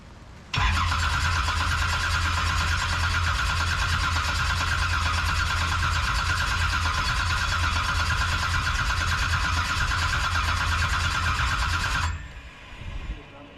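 A twin turbo jet drag boat engine cranks over and fires, holding a loud, steady, harsh roar for about eleven seconds before cutting off abruptly; the engine sound stands alone without talk.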